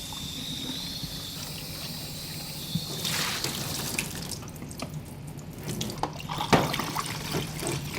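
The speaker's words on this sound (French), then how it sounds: "Donc on va le rincer un peu avant" Tap water runs steadily in a darkroom sink while photographic film is rinsed after development, a continuous close trickle and splash with a few brief knocks and drips, no voices.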